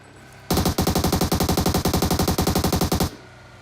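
A rapid, loud burst of gunfire in PUBG Mobile, around an AWM sniper rifle, rattles steadily for about two and a half seconds, then cuts off abruptly.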